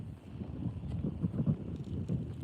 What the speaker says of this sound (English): The wind is picking up pretty crazy over here.